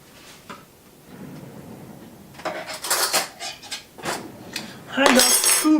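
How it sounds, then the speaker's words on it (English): Cutlery rattles and clinks as a spoon is fetched in a home kitchen, with soft handling at first and then louder metallic clatter and jingling toward the end. "I need to get a spoon. So I'll get a spoon quickly."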